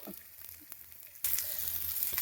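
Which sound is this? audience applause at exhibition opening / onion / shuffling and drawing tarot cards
onion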